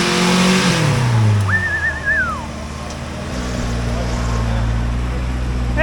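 A Jeep engine revs hard on a climb up an off-road trail at Hocking Hills, loud and close, the pitch rising then settling into a steady drone, with a brief whistle-like tone over it.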